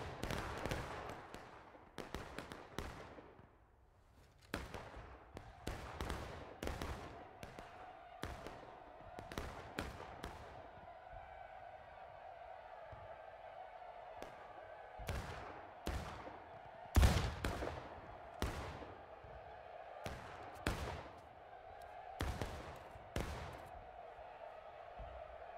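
Musket volleys crack out in the Civil War game War of Rights, with many sharp, loud shots firing in ragged bursts and some spaced single reports over about twenty-five seconds. A faint rumble of battle runs beneath, and a few distant voices are audible.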